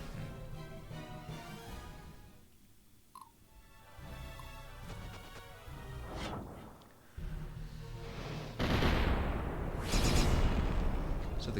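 Cannon fire in the Symphony of War video game booms repeatedly over a dense battle soundscape, with heavier blasts building toward the end, quiet and mixed under continuous game sound.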